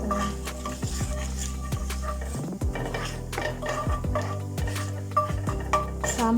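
Spatula scraping and clattering in a pan while okra fry with onions is sautéed, repeated metallic stirring strokes over a soft sizzle, close up and without talking.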